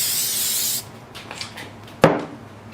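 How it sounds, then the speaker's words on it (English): Regular spray adhesive hisses from a can onto a rectangular vinyl sheet in one steady burst of under a second, followed by quieter handling and rubbing sounds and a sharp knock. "I'll just be using some regular spray adhesive as well"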